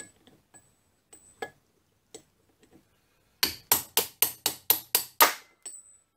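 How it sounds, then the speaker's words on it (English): Bearings are tapped out of a 7x14 mini lathe headstock casing: a few light scattered clicks, then a quick run of about nine sharp, close metallic taps in a regular rhythm, and one softer tap after. "I'll just finish tapping the bearings out of the casing. They tap out really easily."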